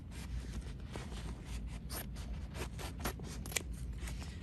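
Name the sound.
scissors cutting cutaway embroidery stabilizer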